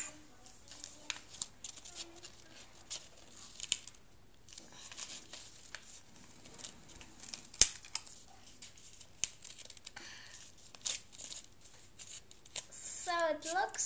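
Scissors cutting origami paper while making a paper Christmas tree, heard as scattered soft snips and paper crinkles close by, ending in a louder burst of rustling, with a person talking intermittently.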